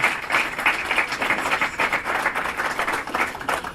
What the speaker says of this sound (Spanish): Recibamos con un fuerte aplauso al licenciado Gustavo Federico Cerrillo.